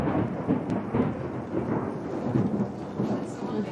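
Thunder rumbles from a passing storm, a loud, continuous low rolling roar with rain hiss in the background and no talk.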